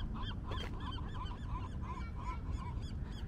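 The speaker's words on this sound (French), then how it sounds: "Avec les mouettes en fond." Near a dam, seagulls call in repeated honking, squawking cries from a few distance away, quiet against a low background rumble.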